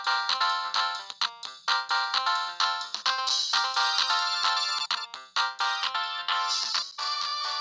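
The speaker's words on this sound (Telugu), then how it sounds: "రేణుకా ఫోన్." A phone ringtone plays an incoming-call melody, a loud, steady run of bright electronic tones with short gaps between notes. It carries on alone for several seconds with no voices over it.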